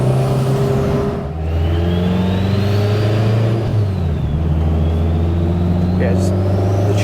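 A fully built 550 bhp MK1 Audi TT with a big-turbo 2-litre stroker engine idles loudly and is revved, its pitch rising and falling through several blips, while people talk nearby.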